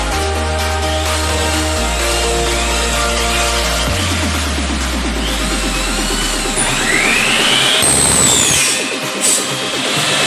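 A power tool cuts metal brackets with a continuous loud whine whose pitch keeps shifting, and a bright metallic screech rises as the blade bites in.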